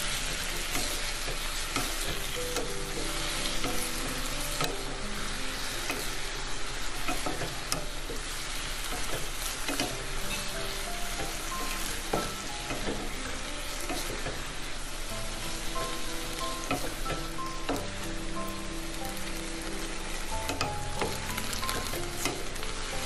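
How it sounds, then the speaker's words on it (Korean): Zucchini stir-fried with salted shrimp and a little garlic sizzles steadily in a pan, with scraping and stirring throughout, close and continuous with no talk. "새우젓으로 간을 해주고 마늘 살짝 넣어서 볶아주면"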